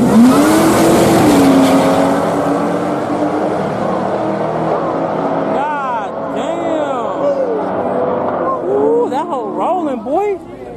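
A Jeep Trailhawk engine revs hard during a launch, rising and falling in loud whining sweeps from fairly close, with excited voices talking over it throughout.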